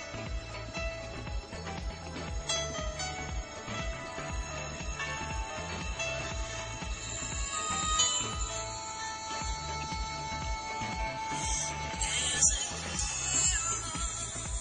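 Music with a steady beat and bass plays continuously through the small loudspeaker of an Android 2.3 smartphone, fairly loud and unbroken, with no talking over it.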